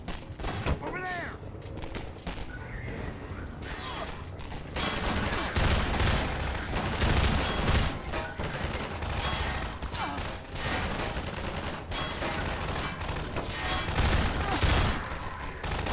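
Rapid gunfire bursts in the VR video game Half-Life 2, dense and loud, with booming shots and mechanical clatter in a busy game soundscape running throughout.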